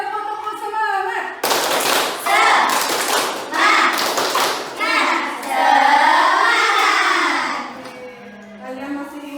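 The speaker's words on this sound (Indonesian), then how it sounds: "Kita bisa tepuk-tepuk semangat dulu" A group claps in bursts of quick rhythmic patterns, alternating with children's and adults' voices chanting along.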